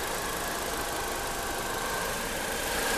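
A 1999 Dodge Stratus four-cylinder engine idles steadily, a continuous even hum with faint mechanical ticking, close and moderately loud with no voices.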